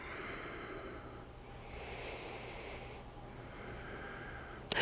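Slow, deep breaths during a yoga stretch, long airy inhales and exhales close to the microphone, followed by a brief bump at the end, with no talking.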